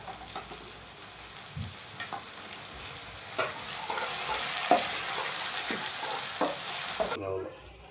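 Tomatoes frying in a pan for a Bangalore-style chicken liver curry, giving a steady sizzle with occasional stirring scrapes and clinks, close and alone with no talk.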